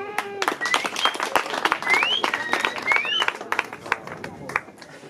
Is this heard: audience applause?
yes